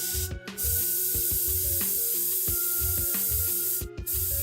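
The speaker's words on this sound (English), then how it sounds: "I know how much I want to pull on this, on the airbrush here, and to get a line" An airbrush sprays paint in two short hissing bursts, one near the start and one near the end, over a quiet background with a faint tonal hum.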